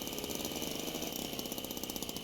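A battered old car engine from the game Jalopy runs steadily on its own, a dense, rough, rattling drone with a fast, even knocking pulse throughout.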